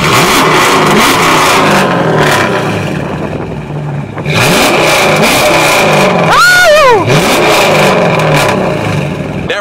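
A Dodge SRT's engine revs hard and loud outdoors, with repeated rising and falling roars across the whole stretch, one sharp high-pitched sweep near the end, and no talk over it.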